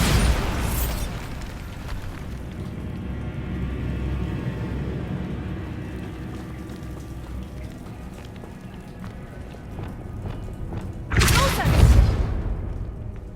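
Spell explosions from the video game Hogwarts Legacy erupt in loud bursts, one at the start and another near the end, with rumbling game ambience and footsteps in between.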